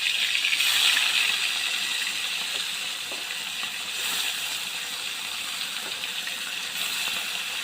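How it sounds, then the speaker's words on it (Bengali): Fish frying in a pan of oil, a dense steady hiss and crackle that swells slightly at moments, close and continuous with no talk. "তো আমি মাছ ভাজছি"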